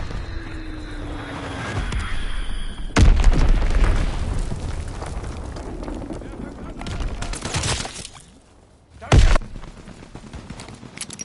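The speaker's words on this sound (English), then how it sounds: "Enemy bomb incoming." Enemy bomb explosions and gunfire in a multiplayer shooter on PS4: a sudden loud blast, then rattling gunfire and booms that stay heavy, and a brief near-quiet gap before another sharp explosion, with voices speaking over the combat.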